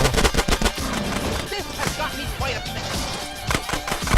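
Rapid bursts of gunfire in GTA: San Andreas crackle and pop in quick succession, loud and close, with a voice talking over parts of it.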